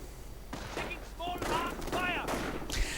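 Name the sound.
gunfire in a WWII strategy video game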